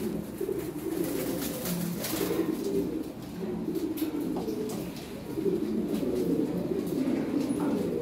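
Lahori Siraji pigeons coo at a pigeon farm in Lahore, with soft, low, repeated calls that overlap steadily against a busy background.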